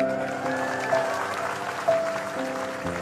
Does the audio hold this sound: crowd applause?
yes